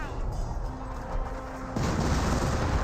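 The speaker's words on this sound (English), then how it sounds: "25-pounder barrage onto the garrison." A 25-pounder artillery barrage on a garrison in Company of Heroes, a dense roar of rumbling impacts that swells louder partway through, with a faint voice beneath.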